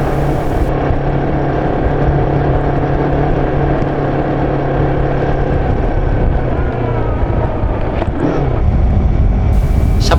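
Motorcycle ridden along a snowy rural road after a fall with a bent gear-shift pedal, its engine droning loud and steady for ten seconds with wind rush, the pitch easing and shifting once near the end.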